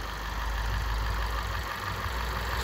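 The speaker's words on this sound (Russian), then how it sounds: "если его отжимаешь в сторону двигателя, ну, соответственно, ось смещается, начинается этот стук" A car engine idles steadily with a dull knock from worn intake manifold swirl flaps, whose shaft has shifted, running as a continuous close-up rattle under the engine drone, with no speech.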